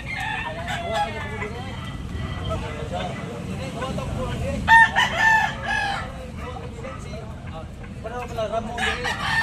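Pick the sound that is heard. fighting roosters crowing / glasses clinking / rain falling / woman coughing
fighting roosters crowing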